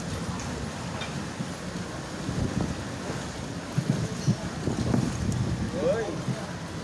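A boat motor drones steadily through a flooded street in Malabon, its rumble mixed with sloshing water and wind buffeting the microphone, while voices talk nearby.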